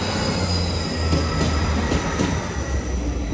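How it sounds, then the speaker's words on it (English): A Northern diesel train, unit 158796, departing Newcastle station for Hexham, with a continuous loud rumble, wheels squealing on the rails and steady clickety-clack. "now is the northern service off to Hexham"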